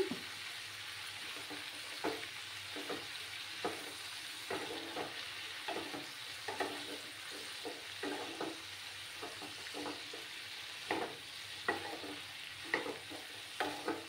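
Cauliflower stems frying with Kashmiri chili powder while being stirred in a pan, a quiet steady sizzle broken by regular scraping strokes of a spatula, repeating every second or so.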